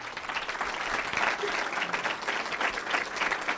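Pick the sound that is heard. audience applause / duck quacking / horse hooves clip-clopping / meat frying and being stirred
audience applause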